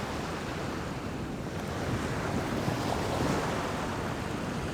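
Ocean surf on a secluded Konkan beach in India, a continuous broad roar of breaking waves mixed with wind buffeting the microphone, steady and fairly loud throughout.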